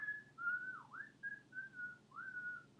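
A lone person whistles a wavering, sliding tune in several separate phrases, clear and fairly quiet, with no talking.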